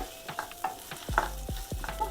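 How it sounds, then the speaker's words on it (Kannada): Onions stirred into hot oil in a pan, with a few scraping stirs and a low, short sizzle, heard close with no voices. "ಇದಕ್ಕೆ ಎಣ್ಣೆ ಕಾದಿದೆ, ಈರುಳ್ಳಿ ಹಾಕ್ಕೊಳ್ಳೋಣ."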